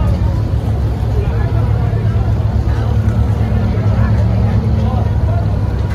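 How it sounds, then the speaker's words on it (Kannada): Steady low droning engine of a Dubai abra water taxi during a ride across the creek at Bur Dubai, loud and continuous with a faint murmur of voices beneath. "ಒಂಜಿ ದಿರಮ್ದ ಬೋಟ್ ದಲ್ಪ ಬತ್ತ ತುಲೆ"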